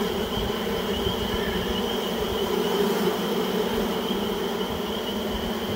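Honeybees shaken onto frames in a queenless, broodless starter hive in cold weather hum in a dense, steady drone, loud and close, with no talk.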